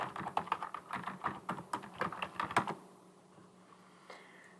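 Quick typing on a computer keyboard while entering spreadsheet column headers, a close burst of rapid, uneven key clicks for a few seconds, then quiet with one last faint tap.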